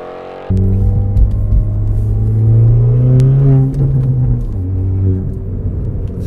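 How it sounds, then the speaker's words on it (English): A car engine rumbles loudly nearby, revving up and settling, with scattered sharp pops like backfires cracking over the steady drone. "It just makes so many backfiry noises in the background."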